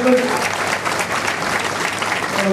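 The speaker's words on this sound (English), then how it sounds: "Big round of applause" An outdoor crowd at an Armed Forces Day event in Liverpool applauds a gun crew drill team, with steady clapping and an announcer's voice carrying over it.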